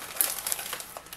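Crinkly plastic packaging of a Loot Crate box rustles and crackles in short bursts as it is pulled open nearby, with no talking.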